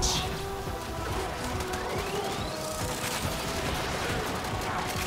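Gunfire in Warframe during an Angels of the Zariman mission: dense, continuous bursts of shots and crashing impacts throughout, loud and chaotic, with a rising whine passing through midway.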